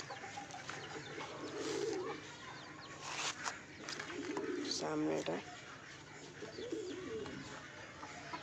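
Pet pigeons coo in a backyard loft where chickens also roam, low throaty calls recurring in short bursts beneath a person talking nearby.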